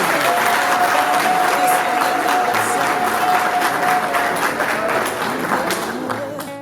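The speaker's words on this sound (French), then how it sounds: "Recevez le couple par des salves d'applaudissements." An audience at a wedding breaks into loud sustained applause mixed with cheering, holding steady before fading slightly at the end.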